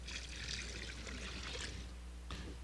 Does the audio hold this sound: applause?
no